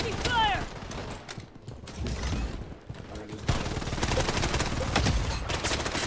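Rapid bursts of automatic gunfire in the shooter Bloodstrike, dense rattling volleys that pause briefly then resume loudly, with game effects mixed in.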